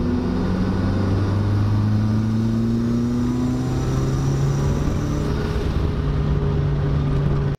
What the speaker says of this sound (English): I like to use fourth gear and try to find an uphill to do it on. Sit down around 2000 RPM and then just wail on it.